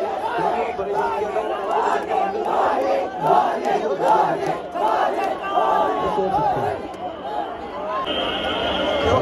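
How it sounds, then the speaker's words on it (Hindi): A large crowd fills the ground of an IPL cricket fan park, a loud continuous roar of cheering and chanting voices with someone talking over it. "देख सकते हैं कितना जबरदस्त भीड़ है, एकदम पूरा ग्राउंड भरा हुआ है।"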